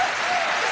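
A crowd applauding in a standing ovation after the FIBA 3x3 World Cup 2019 basketball final at Museumplein in Amsterdam: a dense, steady wash of clapping that lasts under a second.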